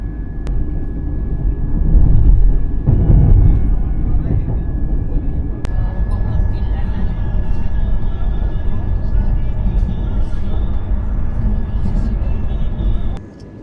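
The Vande Bharat Sleeper train 27575, running Howrah to Kamakhya, pulls out of Malda Town with a steady low rumble that swells early on, then settles into a continuous drone before fading at the end.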